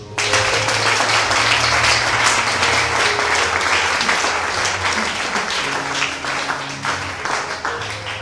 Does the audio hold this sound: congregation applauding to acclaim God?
yes